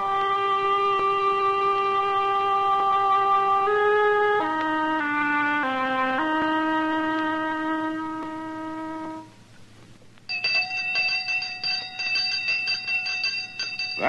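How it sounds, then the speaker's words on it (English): A village school bell rings in a steady, melodic chime pattern of several tones for about nine seconds, followed by a brighter, rapid ringing near the end. "That's the sound of the village school bell"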